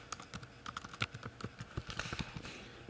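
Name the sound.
typing a kennel name on a computer keyboard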